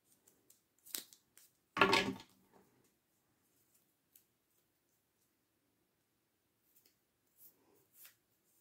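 Scissors snip through paper for a handmade mini album, with one loud close cut burst, a few lighter snips before it, and scattered soft paper handling afterward in an otherwise quiet room.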